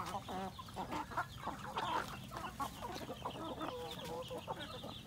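Chickens cluck busily on a backyard farm where the birds feed among fruit trees, a dense, continuous chorus of overlapping calls, fairly close, with no talk.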